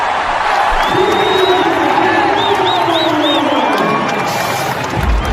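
Cricket crowd at a New Zealand versus Sri Lanka match cheering a boundary four, a loud sustained roar of voices with whoops and shouts throughout, swelling and holding without a break.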